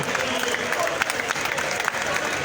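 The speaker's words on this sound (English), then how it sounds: "Let us clap a few more seconds." A football crowd at a Sierra Leone match claps in tribute to a fallen former captain, a brief steady spread of applause with crowd noise and voices talking through it.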